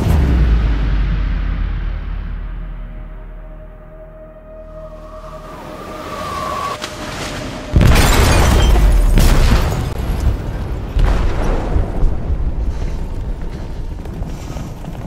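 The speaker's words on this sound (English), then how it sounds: "They detonated an explosive in the hold." A loud, deep boom erupts from an explosive detonated in a ship's hold in Detroit: Become Human, cutting in abruptly after a quieter rumbling stretch and followed by sustained rumbling and crashing debris.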